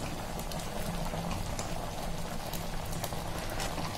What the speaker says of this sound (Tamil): அது கொதிச்சு வரட்டும்.